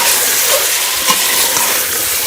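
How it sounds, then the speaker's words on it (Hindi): Beef frying in a pan with garlic ginger paste and onions, a steady close sizzle and crackle running unbroken, with faint stirring scrapes underneath. "मैंने बीफ को जो है वो अच्छी तरह से लहसुन अदरक के साथ भून लिया है"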